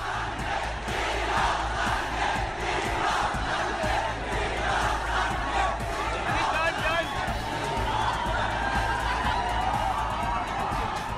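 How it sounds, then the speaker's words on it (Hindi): A large crowd in Kochi chanting and shouting for a celebrity, a dense continuous roar of many voices with rhythmic cheering, loud and close throughout. "सनी ने कोची का एक वीडियो भी शेयर किया है जिसमें लोग वी लव सनी चिल्ला रहे थे"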